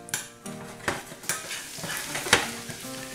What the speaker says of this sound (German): Und gebe dann meinen Knoblauch hinzu. Und das lassen wir jetzt ganz fein anrösten.